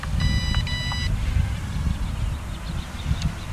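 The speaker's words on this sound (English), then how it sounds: "press the flip button, it beeps at you, the transmitter" A cheap ready-to-fly DM002 FPV drone transmitter beeping as the flip button is pressed: a quick pair of electronic beeps near the start over steady motor and outdoor noise.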